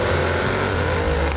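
Sports car with 457 hp on the Hockenheimring during sports driving training, a steady loud engine drone with low rumble holding through the whole short stretch, no voices.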